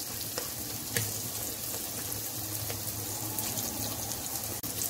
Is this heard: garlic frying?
yes